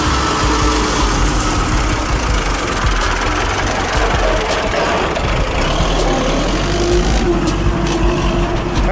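A T-150 tractor working in a sand quarry, its diesel engine rumbling heavily and continuously under load, close and loud, with a steady low throb and occasional knocks throughout.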